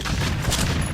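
Grenade launcher fire in the video game Zombie Shooter, a dense burst of explosive blasts filling the whole moment, loud and continuous with a rumbling low end.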